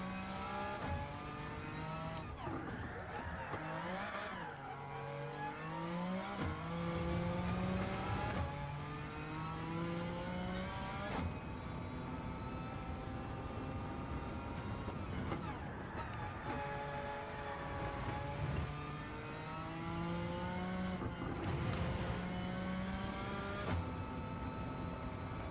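A World Touring Car engine in Gran Turismo 7 on the Tokyo Expressway revs and shifts repeatedly, a loud, continuous whine rising in pitch and dropping back with each gear change.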